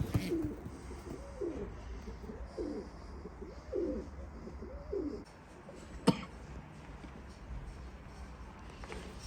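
Adult German domestic pigeons cooing in a run of about five soft, rolling coos, fairly quiet and close, with a sharp knock partway through.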